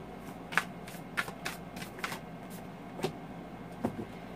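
A Whispers of Love oracle card deck being shuffled by hand, with soft papery riffles and flicks in uneven bursts, close and fairly quiet against a faint background hiss.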